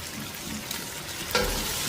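Beef sautés and browns in a hot pan, producing a steady, close frying sizzle with a brief louder spatter near the end.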